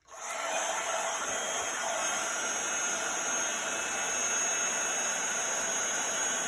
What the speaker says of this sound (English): just waiting for the powder to melt and change, and then moving that heat gun over